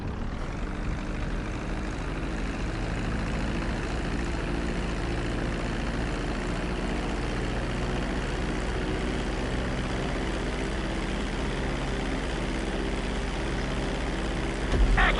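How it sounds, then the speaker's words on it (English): Video game airplane landing on a runway, with a steady, fairly loud engine drone and low rumble running throughout and a bump near the end, with no talk. "Be sure to deploy the landing gear before you reach the runway."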